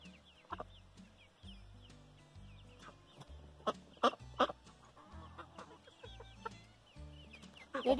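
Chickens on a small American hobby farm keep up a run of clucks and short squawks at middling distance, with a low rumble underneath and a few sharper calls near the end.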